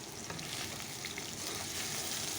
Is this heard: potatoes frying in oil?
yes